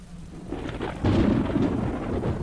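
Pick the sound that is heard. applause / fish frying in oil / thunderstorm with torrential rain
thunderstorm with torrential rain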